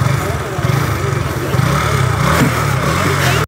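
A TVS Apache RTR 200 motorcycle engine idles close by, a steady low rumble with a faint rhythmic chug that holds for a few seconds before cutting off abruptly as the bike rests on its stand.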